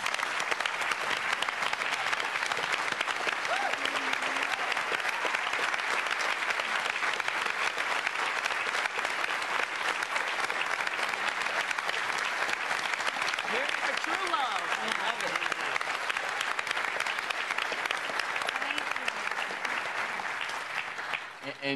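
An audience applauds steadily, a dense, even wash of clapping from many hands that continues for about twenty seconds without letting up, with no clear talk over it.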